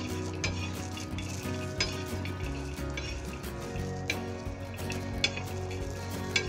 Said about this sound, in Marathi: लसूणाची कढई आहे ना, तव्यावर गरम करून घ्यायची.